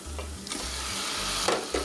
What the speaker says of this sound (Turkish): Salçalarımı biraz kavuracağım.